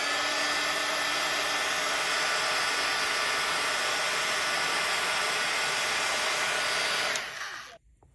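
A hair dryer blows steadily at close range to dry a wet, beaded craft project, a loud continuous whoosh for about seven seconds before it cuts off abruptly.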